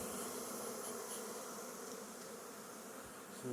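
A nuc box holds a crowd of honeybees, and their close, continuous buzz is even and unbroken from start to finish, with no voices over it.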